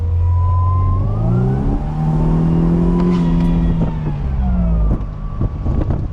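A 1998 Mercedes-Benz SLK 230 with a custom air intake revs loudly up close, engine tone climbing and falling in pitch over several seconds with a steady droning roar.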